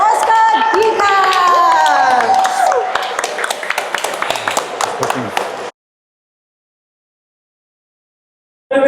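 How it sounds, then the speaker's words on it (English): Loud crowd applause and cheering with whistles for an ISK 7 area champion at a combat sports fight show, dense clapping and voices lasting several seconds before cutting to silence. "now let's give a big round of applause for our ISK 7 area champion, Oscar Diaz"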